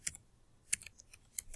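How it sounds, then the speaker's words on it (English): Quiet, irregular clicking of keys being typed on a computer keyboard, heard up close with no talking. "typing in your SID here and your PIN."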